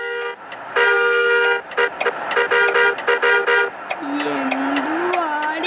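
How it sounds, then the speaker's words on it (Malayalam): A car horn honks at a traffic signal in repeated short toots and a few longer blasts of varying length, loud and close, with another vehicle tone and some background road noise. "നമ്മളാട്ടോ ഇപ്പൊ ഹോൺ അടിക്കണേ."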